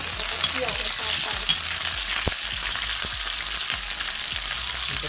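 Garlic stir-fries in a pan for a glass-noodle dish, a steady loud sizzle throughout with scattered scraping stirs and clinks of a utensil against the pan.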